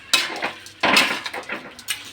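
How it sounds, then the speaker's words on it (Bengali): Carrot halwa with sugar candy being stirred in a pot, heard as a few close, distinct scraping and knocking strokes of a spoon against the pot, separated by short quiet gaps. "আর ভালো করে আমি গলা অবধি নেড়ে নেব।"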